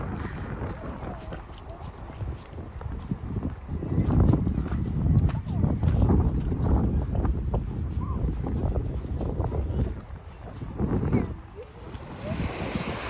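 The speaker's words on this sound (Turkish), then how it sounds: "Bayağı rüzgarlıymış buralar he. Sesten anlarsınız zaten." Strong wind blows outdoors at a crowded seaside, buffeting the microphone in continuous rumbling gusts that swell and ease, with voices faintly mixed in.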